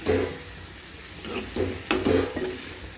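A spoon scrapes and stirs onion egg curry in a frying pan, several short scraping strokes over a soft sizzle, fairly quiet and close.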